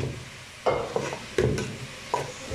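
Garlic, onion, chili and tomato frying in a pan for chicken curry, with a low steady sizzle broken by several bright scraping stir strokes, close and without talk.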